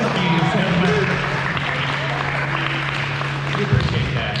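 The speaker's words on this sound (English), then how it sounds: "everyone to get one more round of applause" A school audience applauding, a continuous wash of clapping at fairly steady level with a sustained low hum and some voice-like tones mixed in.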